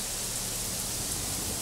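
Simulated rainfall in the farming game Farming Simulator 22, a soft, uniform wash of falling drops that holds steady and moderately quiet throughout, with no talking.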